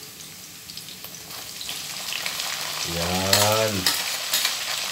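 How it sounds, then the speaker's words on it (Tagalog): Tomatoes frying in a pan give a steady, close sizzle and stirring scrapes, with a brief spoken word partway through. "Lutuin mo ng maayos yung kamatis."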